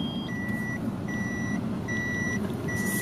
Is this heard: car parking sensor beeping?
yes